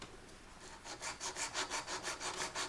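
An Opinel folding pocket knife blade stroked back and forth on a sharpener, a quiet rhythmic rasping of about a dozen even passes, close and alone.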